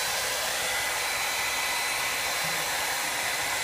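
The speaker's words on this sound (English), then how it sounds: "Now come back with your hair dryer and get this all" A hair dryer blows steadily and close by as it warms a large screw valve on a kiteboarding kite bladder, a constant loud airy whir with no talk.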